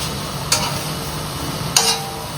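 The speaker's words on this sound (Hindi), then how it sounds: "शिमला मिर्च और चिकन को मिक्स कर दिया।" Chicken and chopped bell pepper sizzle steadily in a hot pan, with two brief scraping strokes of a spoon stirring them, close and alone without talk.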